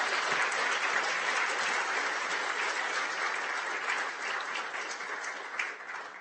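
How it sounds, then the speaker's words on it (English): Audience applause at an artificial intelligence group meetup, steady and fairly close clapping from a room of people that carries on for about six seconds and fades slightly toward the end. "Let's give a round of applause."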